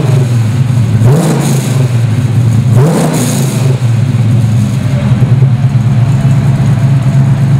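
A 1967 Chevrolet Camaro SS Pro Touring rumbles steadily from the exhaust at the rear, loud and close, with two brief revs rising above the deep idle.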